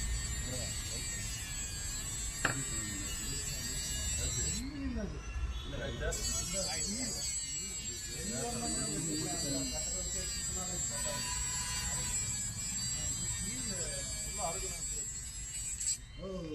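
Firefighters' electric ring cutter grinding through a ring stuck on a finger, a steady close high buzzing whine that runs throughout, with people talking over it.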